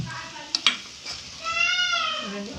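Smashed potatoes get mixed in a pan, with a couple of sharp utensil clinks against the pan followed by a soft, close sizzle, and a faint high whine running underneath.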